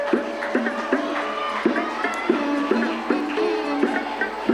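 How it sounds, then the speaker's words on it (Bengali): Children in a classroom clap together in a steady, repeated rhythm, each sharp clap landing about every half second over a busy wash of young voices and tonal background noise. "বলছি শুনে হাততালি দিচ্ছিস তোরা?"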